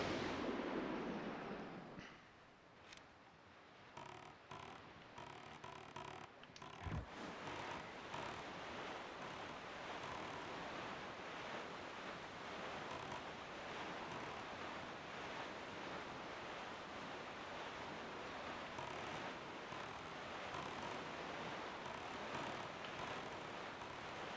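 Sailing across the ocean in The Legend of Zelda: The Wind Waker brings a steady, continuous rush of wind and surf that stays even throughout.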